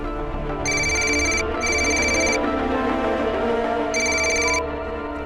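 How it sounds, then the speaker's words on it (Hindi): Telephone ringing on an outgoing call, three bright electronic ring bursts separated by short pauses over a low steady background. "फोन लग गया।"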